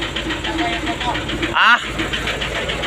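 Diesel engine of a trailer truck idling steadily up close in heavy traffic, with someone talking over it and a brief burst of noise partway through.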